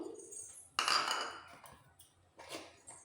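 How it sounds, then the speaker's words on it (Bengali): A few ice cubes dropped one at a time into a glass of coconut lassi, a sharp clinking clatter on the first drop followed by lighter knocks, close and alone with no talk. "একটা করে আইস কিউব এর উপর দিয়ে দিচ্ছি সামান্য একটু"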